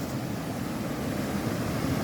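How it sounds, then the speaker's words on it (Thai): Floodwater flowing after heavy rain rushes past in a steady, dense wash of broadband noise, continuous and fairly close, with no voices over it. "พามาดูน้ำไหลครับ"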